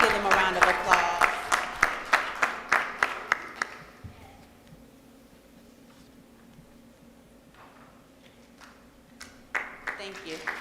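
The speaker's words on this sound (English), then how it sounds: "please give them a round of applause" A small group at a board of education meeting claps for students of the month, with distinct claps in the first few seconds fading into quiet room hum, then a few more claps at the end.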